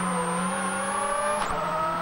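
A Ford Focus WRC rally car's engine roars steadily at high revs close by, holding a loud sustained tone with a brief dip and recovery near the end, no voices.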